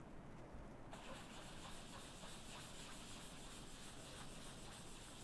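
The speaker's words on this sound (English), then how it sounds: "I'm going to sponge that on to my card" A sponge dabbed and rubbed over a paper card to apply stamping ink, heard as a soft, steady brushy hiss that continues unchanged throughout, faint and close, with no voices.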